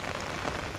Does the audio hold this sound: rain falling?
yes